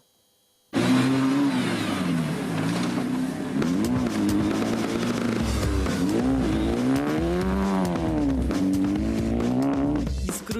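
Rally cars race across a snowy field in a winter rally in Dnipro, with engines revving hard and rising and falling in pitch as they accelerate and slide through corners. The sound is loud and continuous after a brief silent start.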